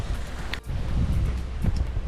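Steady wind buffets the microphone with a low, rumbling roar throughout, gusting loud and close with no talking, outdoors at Boldt Castle on a sunny day.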